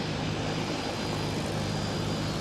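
A small propeller airplane drones loudly and steadily up close, its engine hum continuous and unbroken with no voices over it.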